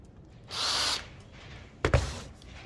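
A short burst of drilling with a 3mm bit into the top of a hand dredge pump, then a quieter pause and a sharp clunk, with steady background noise throughout.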